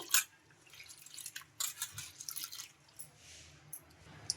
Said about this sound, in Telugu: ఈ పెసరపప్పును అయితే ఒక 2 సార్లు శుభ్రంగా వాష్ చేసుకొని వాటర్ అన్ని వంపేసుకోవాలి